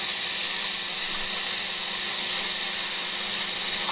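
Minced garlic sizzles in a hot pan while cooking for an Irish Guinness stew, a steady close hiss with no pauses and no talking.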